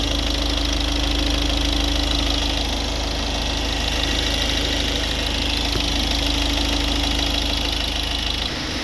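A rebuilt car engine, warmed up, idles steadily close by with a constant mid-pitched hum and fine mechanical vibration throughout; no one speaks.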